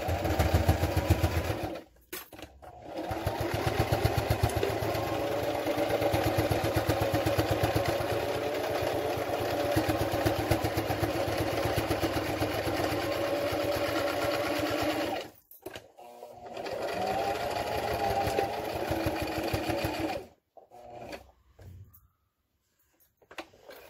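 A sewing machine stitches a fabric surgical mask with bias tape, a fast steady whirring hum of the needle running in long bursts, stopping briefly and restarting before a final short run and pause.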